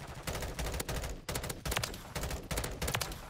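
Gunfire rattles through a Modern Warfare 3 match in rapid, repeated bursts of automatic shots with brief gaps between volleys, loud and close, and no talking.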